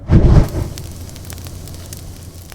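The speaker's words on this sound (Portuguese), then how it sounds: "O fogo." Pantanal wildfire burning, with a heavy low rumbling burst in the first half second followed by a steady faint roar and crackle.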